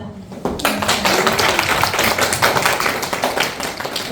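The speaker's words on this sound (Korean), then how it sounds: "뜨거운 박수 부탁드리겠습니다" Applause from an audience at a business talk event: dense, loud clapping that starts abruptly after a short pause and carries on evenly to the end.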